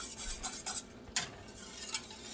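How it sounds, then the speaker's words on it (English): Banana pudding custard stirred in a pot with a utensil: soft, repeated scraping and clinking strokes against the pot, quiet and close, in an irregular rhythm with no talking. "consistently stir this because you don't want this to start sticking on the bottom and burn"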